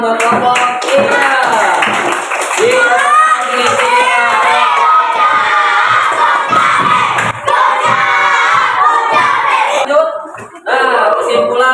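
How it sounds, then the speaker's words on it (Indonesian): Schoolchildren in a classroom clap and shout loudly for a group, a lively mix of cheering voices, chatter and clapping, with a brief dip near the end before the noise resumes. "Tepuk tangan buat kelompok."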